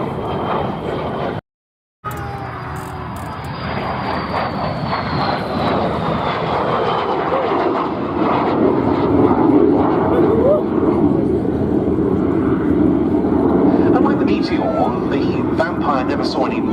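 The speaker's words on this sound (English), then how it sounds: "The Vampire FB6 single-seat fighter bomber version from the Norwegian Air Force Historical Squadron." A Vampire FB6 single-seat jet fighter-bomber of the Norwegian Air Force Historical Squadron roars past at an airshow, a sustained loud engine rush with a shifting whine as it passes, while a commentator talks throughout.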